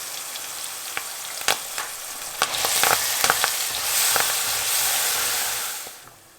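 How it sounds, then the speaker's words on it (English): Pureed onions and spices frying in oil for a fenugreek chicken curry, a dense close sizzle swelling louder midway, punctuated by several sharp spoon clicks and stirring scrapes, no voices. "So we're going to let this fry until the onions are cooked thoroughly and turn slightly brown."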